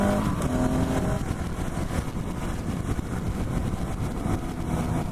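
A 2017 KTM 690 Enduro R single-cylinder motorcycle pulls away and accelerates, its engine drone loud and steady throughout with a brief rising tone near the start, heard close without any voices.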